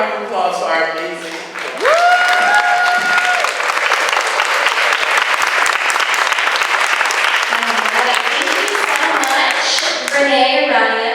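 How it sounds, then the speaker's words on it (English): An audience at a forum breaks into sustained applause, a dense wash of clapping that swells after a brief voice at the start and carries on steadily for roughly nine seconds, with a few voices mixed in. "And one more round of applause for our amazing"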